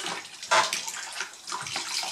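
Hot water splashes and trickles as excess glue is wiped from newly laid floorboards, a short burst of wet scrubbing rising midway and then settling into softer swishes close by.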